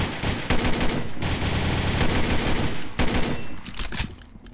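Rapid bursts of automatic gunfire in the online shooter Combat Arms, loud and close, with several sustained volleys separated by brief gaps.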